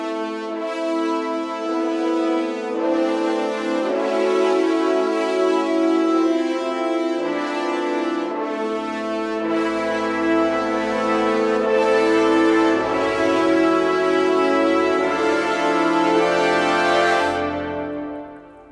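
A large brass section from the Spitfire Symphonic Brass sample library holds sustained, swelling chords, full and resonant, playing alone for several bars before releasing.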